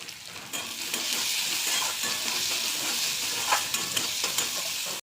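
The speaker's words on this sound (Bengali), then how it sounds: "পেঁয়াজ ভাজা হয়ে গেছে।" Sliced onion with dry red chilli and crushed garlic frying in hot mustard oil, sizzling steadily and loudly with close scraping stir strokes throughout, no voices.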